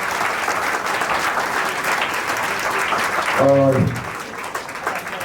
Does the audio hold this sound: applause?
yes